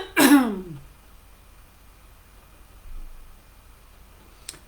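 A single sharp throat clearing with a brief cough bursts out close and loud, followed by near silence and a faint shuffle.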